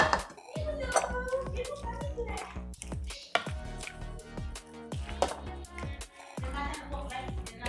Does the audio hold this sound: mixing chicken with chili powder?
yes